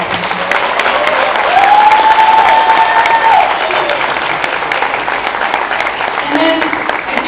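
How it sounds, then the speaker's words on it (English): An audience claps and applauds steadily throughout, a dense, even wash of clapping from a crowd at a stand-up talk on emotional well-being, with a faint tone running briefly beneath it. "So please give David a round of applause for thinking about that"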